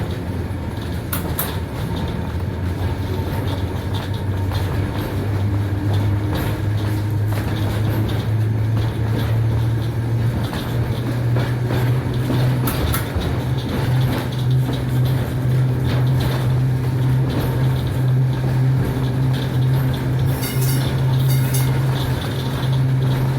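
An old streetcar trolley reverses slowly along the rails of the Como-Harriet line, its trolley wheel pushed along the overhead wire. A steady low motor hum rises and holds, with rumbling wheel noise and faint clanks throughout.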